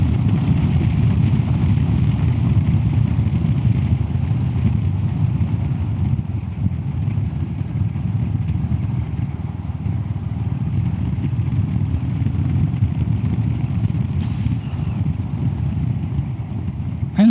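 A Royal Enfield Classic 350 motorcycle fitted with a FuelX Lite and DNA filter pulls smoothly in fifth gear from about 50, its steady, loud engine drone and exhaust rumble continuing unbroken throughout.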